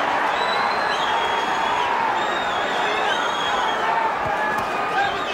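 A boxing arena crowd at a championship fight reacts as the action builds, a dense, steady roar of many voices with scattered shouts and whoops, loud and continuous throughout.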